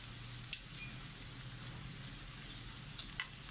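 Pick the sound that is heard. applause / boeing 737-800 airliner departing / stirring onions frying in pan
stirring onions frying in pan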